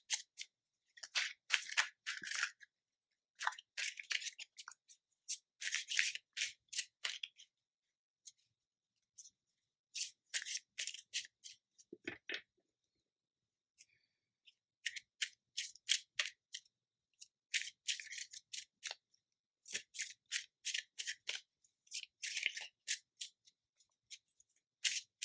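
Tarot cards being shuffled and drawn close up, with quick bursts of crisp riffling and flicking separated by short silent pauses, repeating many times with no talking.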